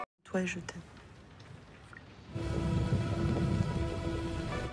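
Heavy rain pours steadily at night in a film about an acid-rain disaster, a dense, loud wash of falling water that swells after a brief quieter opening.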